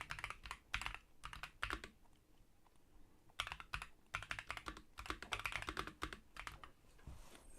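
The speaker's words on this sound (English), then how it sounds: "I think the sound of the keys type in." Typing on a mechanical computer keyboard, with clicky keystrokes coming in quick bursts and short pauses between them, close and clear with no voices.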